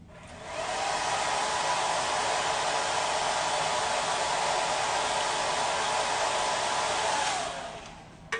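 A hair dryer blows on hair during a salon styling demonstration. Its steady, loud whoosh of airflow rises within the first second, holds evenly for about seven seconds, then cuts off.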